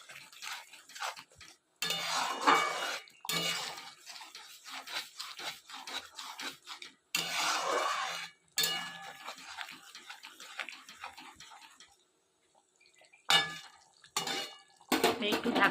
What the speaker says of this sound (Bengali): ধনে গুঁড়ো, লঙ্কা গুঁড়ো দিয়ে ভালো করে কষবে এটা